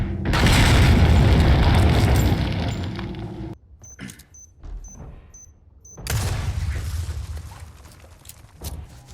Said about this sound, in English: the explosion in the original is a lot better,